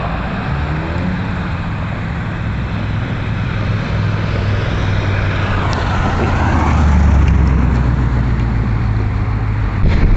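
A 1969 Dodge Dart bracket race car with an original 340 Magnum V8 roars as it drives away on a road, its loud, continuous engine note swelling briefly partway through, with no talk.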